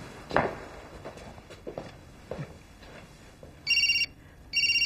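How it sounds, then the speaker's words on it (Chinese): A home telephone in a domestic drama scene rings in two distinct bursts near the end, following soft footsteps and light household knocks. "你的电话。"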